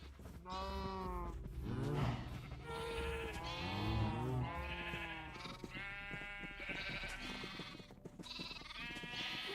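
Several sheep in the video game Minecraft bleat repeatedly and loudly, overlapping one another in a steady chorus with short pauses between cries.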